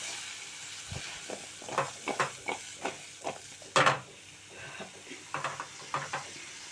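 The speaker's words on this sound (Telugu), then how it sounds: "ఇలా కాసేపు వేయించుకుందామండి." Drumstick pieces frying in a pan for a drumstick tomato curry, a low continuous sizzle broken by repeated scraping and clacking from turning the pieces, close and without talk.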